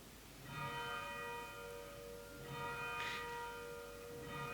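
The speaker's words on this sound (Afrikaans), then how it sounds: "Ons moet ook dankie sê vir Albie wat so mooi werk aan die klokkie afgelope tyd" A small church bell rings in a few slow, evenly spaced strokes, each leaving a long, bright, humming tone that fades under faint room noise, heard from a distance with no talking.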